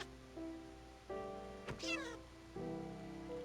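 A cat in the Minecraft video game meows a few times over sustained tonal game music, with a brief sharp click partway through.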